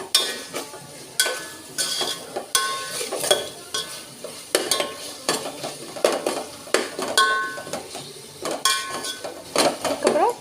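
Mint and coriander stirred into sautéed food in a pan, a utensil scraping and clinking against the metal in quick repeated strokes over a soft sizzle, close and fairly loud with no talk.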